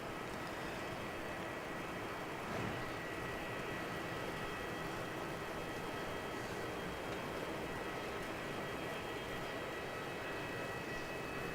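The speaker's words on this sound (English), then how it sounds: "Emirates 380 going full length kilo" Emirates Airbus A380 taking off full length at Melbourne Airport, a steady distant jet roar that holds constant throughout with no voices.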